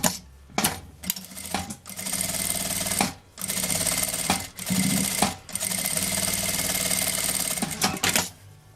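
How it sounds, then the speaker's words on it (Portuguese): A sewing machine stitches a fabric bag strap with a half-foot topstitch, running in loud, close, steady bursts broken by several short pauses. "eu vou passar uma costurinha com meio pé de máquina pra rebater, pra fazer um detalhe"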